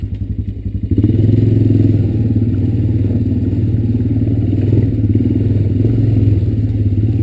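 Honda Recon ES ATV engine chugging steadily as it rides through a soft, muddy path, a close, continuous low rumble that swells after the first second, with faint clatter and thumps from the terrain.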